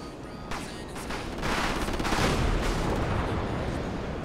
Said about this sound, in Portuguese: Caça vai atirar, hein?